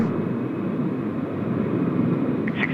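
A Qantas airliner arriving from Hong Kong at Sydney Airport produces a steady, moderately loud jet rumble that holds even and unbroken for the whole clip.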